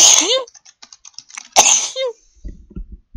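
A loud, sharp sneeze bursts out, preceded by a sharp intake of breath and followed by faint tapping sounds.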